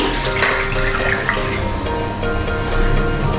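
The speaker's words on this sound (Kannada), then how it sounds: "ನೆಕ್ಸ್ಟ್ ನಾನಿಲ್ಲಿ ನೀರು ಹಾಕ್ಕೊಳ್ತಾ ಇದ್ದೀನಿ." Water poured from a vessel into a pressure cooker holding soaked rice for vegetable pulao, a continuous loud splashing gush with a brief dip midway, close by and without talk.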